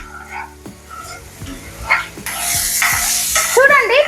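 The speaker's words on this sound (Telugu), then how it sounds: "ఈ టమాటాని మనం పచ్చి స్మెల్ ఉండకుండా లైట్ గా ఫ్రై చేసుకుంటే సరిపోతుంది." Tomato fries lightly in a pan, the sizzle swelling loud and close midway with soft stirring taps and scrapes around it, with no speech.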